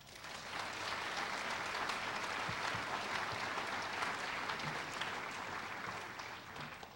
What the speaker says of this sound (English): Please give a nice round of applause to Connor Carroll and Noah Kleiman